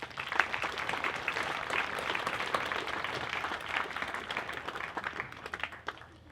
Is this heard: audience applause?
yes